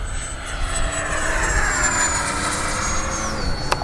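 An FMS 70mm Yak v2 RC electric ducted-fan jet flying past, a loud steady whine with a sliding pitch drop as it passes, continuous and alone without talk.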